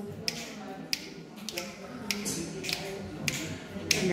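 Finger snaps from a singing group at the Schönhagen spa clinic, counted off as a steady beat: about seven crisp snaps spaced evenly around half a second apart over a faint room murmur.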